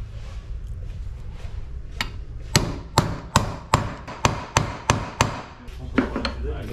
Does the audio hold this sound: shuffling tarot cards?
no